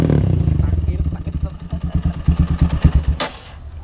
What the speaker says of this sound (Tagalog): Ito yung tunog ng R8 pag walang silencer